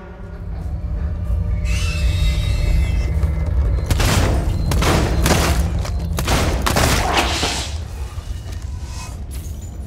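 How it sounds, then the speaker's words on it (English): Revolver fire in the survival horror game Alien: Isolation: several loud, sharp shots come in a quick cluster in the middle, set against a constant low rumble and a high whine, with no voices. "Let's go revolver, because it's more rapid fire."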